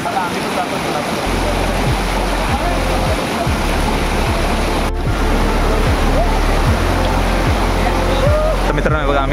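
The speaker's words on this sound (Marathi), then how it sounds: "हा बघा छोटासा धबधबा आहे" Broadband rushing water from a small, shallow waterfall where people swim, loud and steady throughout, with a rhythmic low throbbing and occasional splashes or voices mixed into the roar.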